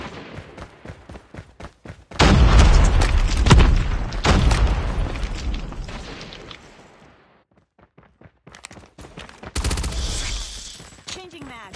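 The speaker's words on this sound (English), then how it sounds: "Grenade!" A grenade blast and bursts of gunfire in a Call of Duty ranked search and destroy match, with heavy booming explosions and rattling shots that swell, fade to near silence, then return loud.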